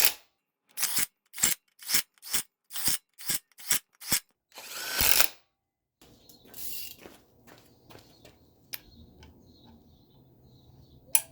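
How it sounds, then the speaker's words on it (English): Bolting a flywheel onto a Range Rover L405 5.0L engine during timing repair: a fast run of sharp ratchet or power-tool bursts, a longer whir, then quieter scattered clicks and metal handling nearby. "Now let's put the flywheel on."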